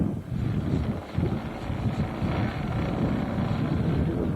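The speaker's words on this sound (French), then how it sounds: "C'est vrai qu'il y a du vent." Blustery wind buffets the microphone at an outdoor model aircraft flying field, a low rumbling roar with gusty swells throughout, loud and close.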